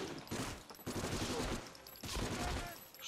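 Gunfire in the PS2 shooter Medal of Honor Frontline: repeated bursts of rapid automatic fire in three dense volleys separated by brief gaps, fairly loud and close.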